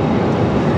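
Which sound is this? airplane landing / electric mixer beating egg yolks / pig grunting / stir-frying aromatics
airplane landing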